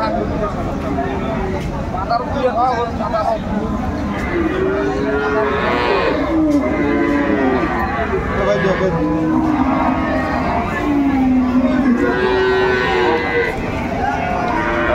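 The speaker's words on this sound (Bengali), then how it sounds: "গাভী বাছুর আমরা দেখছিলাম, এখানে দামাদামি চলছে।" Cows and calves mooing repeatedly at a busy cattle market, several long drawn-out lowing calls over a constant crowd babble and nearby voices haggling.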